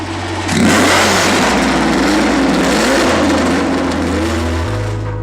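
A 1969 McLaren M9A race car engine runs loud and close, rising sharply then holding a throaty, fluctuating rev with several steps in pitch, with no talk over it.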